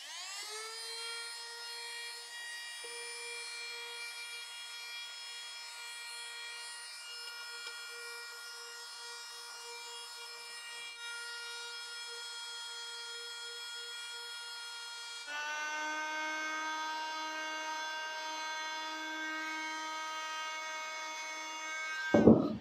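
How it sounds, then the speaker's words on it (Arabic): Power sander working wood in tight spots, a steady high whining motor buzz held for over twenty seconds, shifting to a lower pitch near the end before a brief scraping burst, no talk. "تعالوا بقى نجرب الصنفرة كده"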